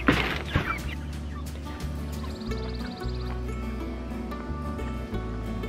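Chickens in a chicken tractor cluck close by in a steady, busy chorus, with soft rustling and a brief louder burst at the start.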